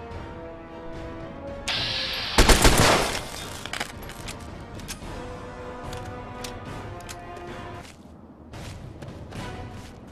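In Fallout 3, an energy weapon running on electron charge packs fires a loud crackling burst, followed by scattered shots, thuds and impacts amid ongoing combat noise.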